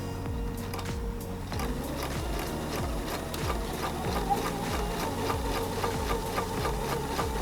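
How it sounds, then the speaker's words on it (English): A sewing machine stitches fabric pieces chained one after another, its needle thumping in a fast, steady rhythm with brief pauses and restarts between pieces, close and continuous throughout. "because you just keep sewing"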